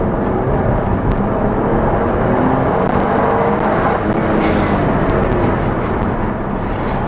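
An Alfa Romeo Stelvio Quadrifoglio SUV drives with a loud, steady engine and road roar that fills the cabin the whole time, with a few faint higher ticks near the end and no talking.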